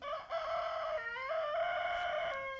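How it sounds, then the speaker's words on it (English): A single rooster crows close by, one long rising and falling cock-a-doodle-doo, clear and loud with no talking. "The rooster said he totally agrees."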